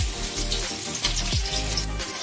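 Washed moong dal roasts over medium heat in a pan for halwa, a close, even sizzling hiss with a couple of soft scraping stirs.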